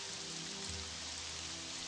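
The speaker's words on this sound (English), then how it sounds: "Enjoying the nice soothing tones of the rain" Steady rain in The Elder Scrolls: Morrowind, an even, continuous hiss of drops falling on surfaces, soft and unbroken with a low background hum.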